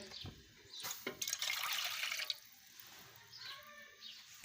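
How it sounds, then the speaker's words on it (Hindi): Around two glasses of water splash and pour into a pot set over an open fire for boiling rice, in a few uneven bursts with dripping between them, close and fairly quiet. "उसके अंदर हमने पानी ऐड करना है, तकरीबन 2 गिलास पानी के ऐड करेंगे।"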